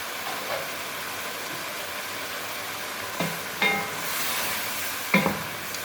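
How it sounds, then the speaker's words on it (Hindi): Masala for chicken karahi sizzles steadily in hot ghee, with a spatula scraping and clanking against the pan three times near the end; close, loud and continuous, no voices. "मैं साथ साथ इसकी बुनाई करती जा रही हूँ"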